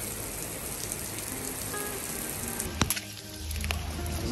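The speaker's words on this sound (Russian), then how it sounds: "Просто даже не дождь, а ливень идет." Heavy rain pouring down in a steady, dense wash of noise outdoors while waiting for a taxi, with a couple of brief sharp knocks near the middle.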